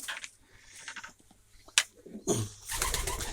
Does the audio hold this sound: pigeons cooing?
yes